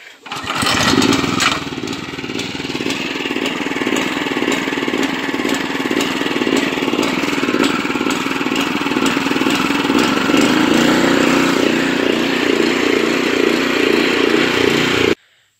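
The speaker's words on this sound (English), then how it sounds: "Let's see if she fires up." Troy-Bilt Horse tiller engine after a carburetor cleaning, a cranking start that catches and settles into a loud, steady, slightly loping idle that runs about fifteen seconds, close up with no talk.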